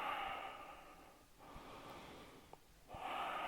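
A person holding a heart-opening yoga pose takes slow, audible breaths close by, a soft inhale, a quiet pause, then another breath drawn in through the nose.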